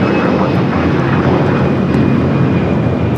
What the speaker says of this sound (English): That is American Airlines 2073 off to Phoenix on the A321.